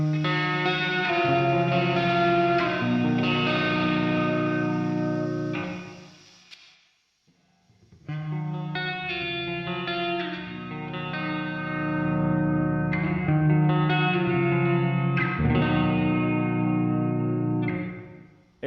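Electric guitar chords ring through a NUX Verb Core Deluxe pedal on its plate reverb setting with the tweak control fully up, giving a bright, shimmering tail over sustained strummed notes, with one short pause midway.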